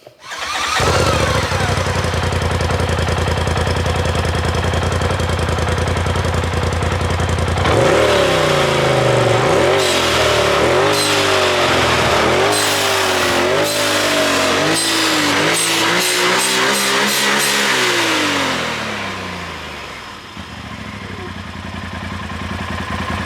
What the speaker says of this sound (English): we'll turn it on and rev it up right now